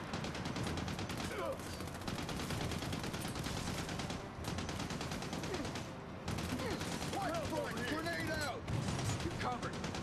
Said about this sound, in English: Heads up! Machine gun!